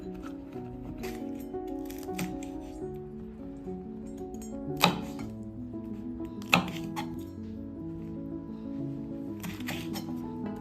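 Green chillies are cut with a knife for an Onam sadya vada koottu curry, producing light, quick tapping cuts on a board with two sharper knocks, quiet and close, with no one speaking.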